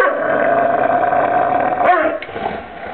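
A dog growls steadily and close for nearly two seconds, then the growl breaks into a short yip and softer whimpering sounds.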